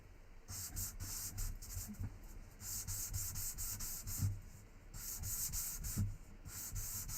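Quiet rhythmic scratchy rubbing of hand sanding, back-and-forth strokes repeating steadily at close range with a hissy, gritty texture.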